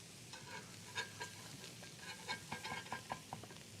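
Burger patties topped with cheese cooking on a griddle, a faint sizzle with a few soft spatula taps and scrapes toward the end, quiet and with no voices.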